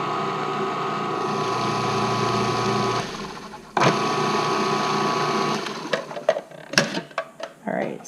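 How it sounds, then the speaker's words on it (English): A food processor chops fresh nettles for pasta with a close, buzzing motor hum in two runs, followed by clattering knocks as it stops. "a food processor is going to do pretty fine as well"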